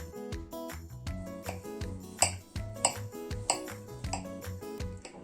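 A metal knife cuts a soft cottage cheese pie, scraping and tapping against the baking pan in a steady series of clinks and rasps, close and fairly quiet.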